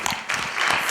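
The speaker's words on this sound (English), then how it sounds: "Let's give our panel another round of applause." A luncheon audience gives a health and wellness panel a round of applause, dense crowd clapping that swells and keeps going through the second, with some voices mixed in.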